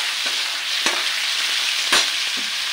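Chicken liver and gizzard adobo is stirred in a pan, a steady sizzle underneath broken by a few distinct scraping strokes of the spoon, the loudest near the middle, with no talking.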